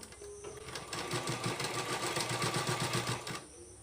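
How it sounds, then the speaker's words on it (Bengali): A sewing machine runs close up, stitching along a fold in thin rope. A fast, even mechanical whir and chatter lasts about two and a half seconds, with quiet pauses before and after. "এরপর এই চাপ বরাবর আমি সেলাই দিয়ে দেব"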